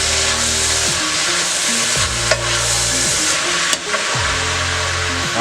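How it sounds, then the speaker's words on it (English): Thinly sliced cheesesteak beef sizzles steadily in a hot pan as a utensil stirs it, with slow scraping strokes recurring every second or so and a sharp clack from the spatula now and then. "I'm going to stir that up a little bit."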